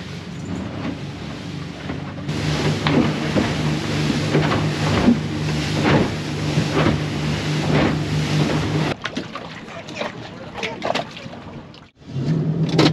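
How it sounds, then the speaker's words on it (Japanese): A boat pounding across rough seas on the way back to Saipan, its engine droning steadily under loud rushing water and repeated hull slaps, with wind buffeting near the end. "また荒波を乗り越えてサイパン島に帰ります。"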